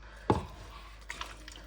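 Water being added to a flour batter for Cameroonian fritters, heard as one clear splash and pour followed by a few faint drips, close and quiet, with no talking.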